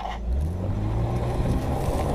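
A car pulls off quickly: a low engine rumble rises in pitch as it accelerates, close and steady for a couple of seconds, with no voices.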